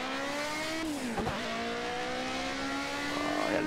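A BMW 320 Turbo in Project CARS at Donington Park, downshifted to second and held at full throttle through a right-hand kink. The engine drone climbs steadily in pitch, with a brief dip and tire noise midway, and no talking.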